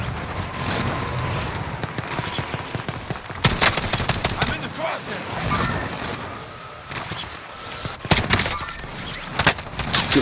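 Rapid automatic gunfire from newly added weapons in a multiplayer shooter, dense loud bursts and cracks with short gaps, while players talk over the action.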